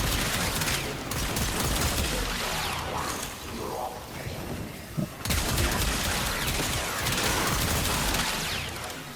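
The Laetum weapon firing in the Warframe video game, a dense and continuous barrage of loud shots and impacts with a brief dip midway before it resumes just as heavily.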